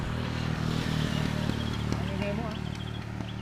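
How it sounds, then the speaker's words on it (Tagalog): A motorcycle passing on a rural road rumbles steadily nearby, loud and continuous, with faint chirps and clatter on top. "ang ingay ng motor eh"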